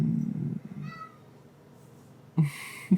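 A pet cat meows softly a few times at close range in a quiet room: a faint drawn-out call near the start, then two short meows near the end.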